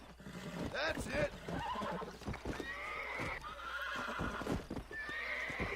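A wild horse being broken in within Red Dead Redemption on Xbox 360 neighs in sharp, shrill whinnies while hooves clatter and stamp close by, with someone talking over the struggle.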